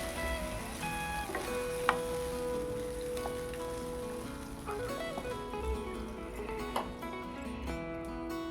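Masala paste frying in oil in a pan for a Mughlai egg curry, giving a steady, dense sizzle like light rain that runs the whole time, with a few faint clinks and tonal kitchen sounds over it.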